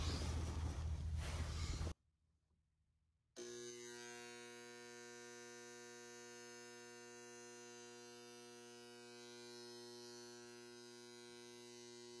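A failing unit heater motor runs noisily with a loud, steady electric buzz and hum, after a short burst of noise and a brief silence at the start.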